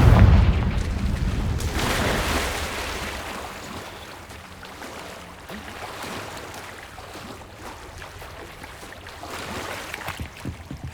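A Confringo spell blast in Hogwarts Legacy, a loud booming burst at the start that rolls into a long rumbling, crackling tail of debris and fire, with no talk.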